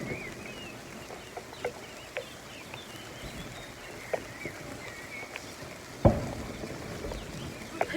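Chickens cluck intermittently in a rainy farmyard, the calls soft and somewhat distant over a steady wash of rain, with one louder burst near the end and no talk.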